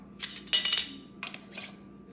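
A metal lid set onto a hot glass jam jar during Christmas jam canning, giving a few light clinks and scrapes in short bursts, close and fairly quiet.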